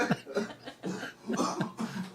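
A woman who is under the weather coughs several times in quick, rough bursts, close and fairly loud, with a throaty rasp between coughs.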